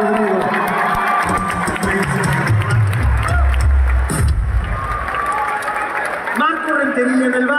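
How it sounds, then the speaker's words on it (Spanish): A concert audience at an outdoor show applauds and cheers loudly for the guitarist, a dense crowd roar with music and voices mixed in. "Un aplauso, por favor."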